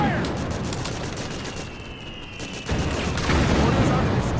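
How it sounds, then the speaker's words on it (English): Dense suppressing gunfire and explosions roar through a battle in Metal Gear Solid 4, a continuous loud barrage of shots and booms with distant shouting voices mixed in. "Suppressing fire! Back me up! Charge! Suppressing fire!"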